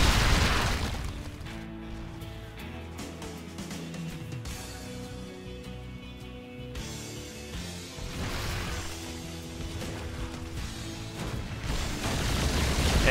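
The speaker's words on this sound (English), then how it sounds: "Oh man, those explosions" Explosions in a StarCraft II match on Metalopolis, a dense continuous rumble of booms and crashes layered over game sound, loud and close, swelling at the start and again toward the end.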